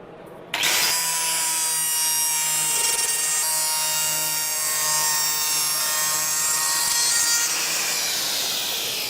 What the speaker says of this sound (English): Use the woodcarver, nothing works better.